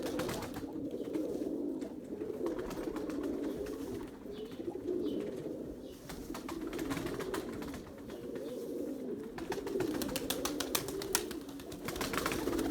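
A male pigeon coos repeatedly inside a pigeon loft, low rolling calls recurring in phrases with soft background rustle, fairly close and moderately quiet.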